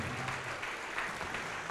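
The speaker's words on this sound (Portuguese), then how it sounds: "Vamos aplaudir ao nome de Jesus" A church congregation applauds together in praise of Jesus, a steady, moderately distant wash of clapping that fills the space without pause and with no voices standing out.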